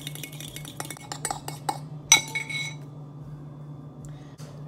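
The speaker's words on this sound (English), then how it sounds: "I'm gonna whisk my egg in the bowl" An egg is whisked with a spoon in a bowl in a home kitchen, with a quick run of light, rapid clinks and taps against the bowl, one sharper knock, then quieter scraping over a low steady hum.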